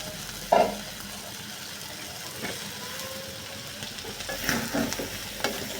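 Green chilies and peas frying in a pan, a steady soft sizzle with occasional stirring scrapes and a sharp clink near the start, close and fairly quiet, no talking.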